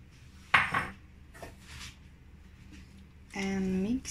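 Rice noodle salad with vegetables and sauce is stirred in a dish, giving a few sharp clinks and scrapes of utensils against the bowl, with talking near the end.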